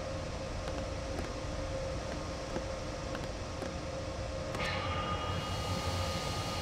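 A BR 146 electric locomotive powering up in the train simulator Train Sim World 4, a steady electrical hum and drone with faint clicks, rising in pitch slightly near the end.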